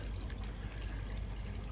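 Water flows steadily out of a 6 meter pipe into a koi pond bio chamber, a continuous low rushing trickle that holds even and unbroken throughout.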